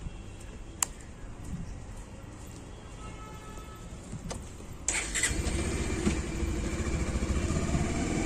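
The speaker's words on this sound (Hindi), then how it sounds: "बाइक ले गए।" A motorbike's engine catches abruptly partway through after a quiet stretch with faint clicks, then keeps running in a steady, close mid-pitched putter.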